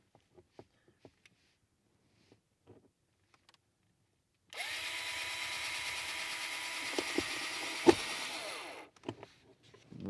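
Power drill driving a self-tapping drywall screw into a CrossBreed RAM mount in-car holster, a sudden steady whir lasting about four seconds after light handling clicks, close and clear.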